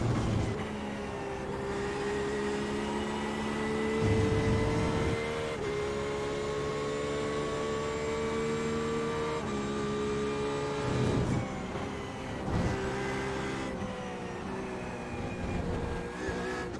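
Race engine in the iRacing sim, an LMP2 prototype among the field, holds a steady high whine with repeated gear shifts and rises and falls, near and loud, with no talking.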